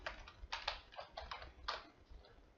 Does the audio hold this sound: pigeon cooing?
no